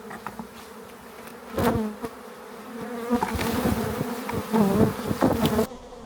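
Honey bees buzz around a beehive that has just swarmed, individual insects droning close past in rising and falling passes over a quieter background hum.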